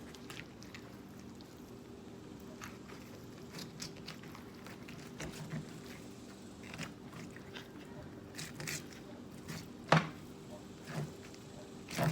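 A knife filleting alligator gar meat off the bones: faint wet slicing and scraping in irregular strokes, close but low, over a steady outdoor hum, with a few sharper knocks near the end.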